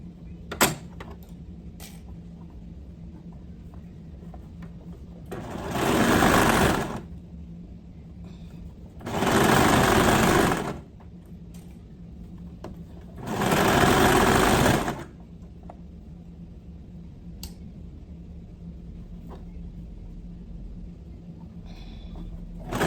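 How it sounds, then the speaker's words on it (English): A sewing machine sews a leg band onto baby bummies in three distinct loud bursts of rapid stitching, each lasting about a second or two, separated by quiet pauses with faint fabric handling. "we are going to sew this leg band same way"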